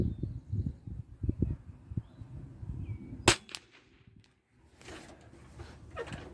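A single sharp gunshot at a shooting range cracks out mid-way, preceded by low rumbling handling noise and followed by faint rustling and distant clatter.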